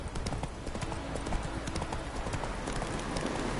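Roach, the horse in The Witcher 3 video game, gallops with rapid, steady clip-clop hoofbeats close up, a continuous rhythmic drumming over rustling game ambience.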